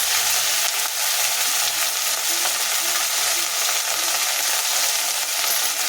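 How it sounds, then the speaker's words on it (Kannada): Mint and coriander leaves frying in hot oil make a loud, continuous sizzle and crackle with occasional stirring scrapes, steady and close throughout. "ಚೆನ್ನಾಗಿ ಫ್ರೈ ಆಗಬೇಕು ಎಣ್ಣೆಯಲ್ಲಿ."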